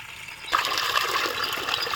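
Water splashes and gushes while fish are washed for a fish gravy. It starts suddenly after a brief quiet, then runs as a steady close rush for about a second and a half.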